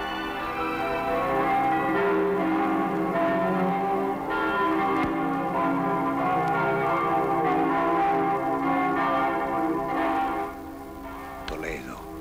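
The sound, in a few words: church bell of Toledo cathedral ringing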